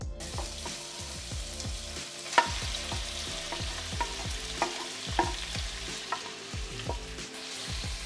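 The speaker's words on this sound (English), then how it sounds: "I just cut up the chicken and we're gonna bake it in a pan. I'm gonna use a little bit of olive oil" Cut-up chicken fries in a pan with olive oil, a continuous close sizzle broken by repeated clinks of a utensil against the pan, with no voices.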